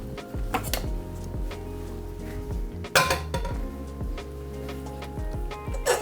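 Boiled potatoes pulled from a pot into a bowl: repeated clanks and knocks of a utensil against metal and a bowl, close and uneven, with a louder clatter near the middle and a steady low hum underneath.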